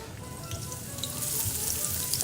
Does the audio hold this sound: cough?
no